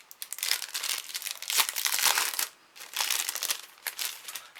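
A package of craft dies is opened by hand, with close, crisp crinkling and tearing of packaging in two stretches separated by a short pause.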